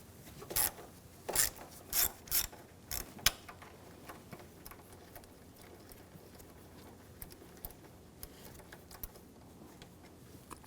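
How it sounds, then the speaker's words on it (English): A ratchet with a 10mm socket turns a bolt on a 2007-2013 BMW X5 3.0L inline-six, giving a handful of crisp clicks close by, then fading into faint scattered ticks in a quiet space. "Now right here there's a bolt. Use a 10mm socket."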